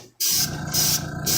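Airbrush spraying paint onto a caddy, a steady close hiss that comes in pulsed passes with short gaps between strokes, starting abruptly after a brief quiet moment.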